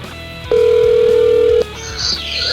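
Telephone ringback on an outgoing call, a single loud steady tone lasting about a second, then line noise and a faint rising electronic tone.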